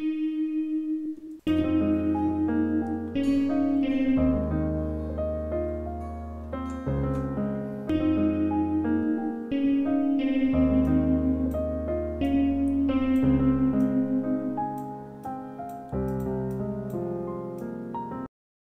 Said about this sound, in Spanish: la guitarra que vamos a buscar va a ser una guitarra no dura de heavy metal, pero que sí que tenga rock dentro de ella, con el reverb bastante elevado